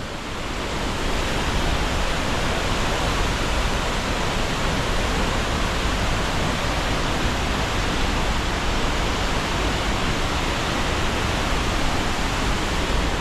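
La Fortuna waterfall in Costa Rica, about 70 meters tall and very powerful, roaring as a dense, constant rush of falling water, loud and close, unbroken throughout with no voices.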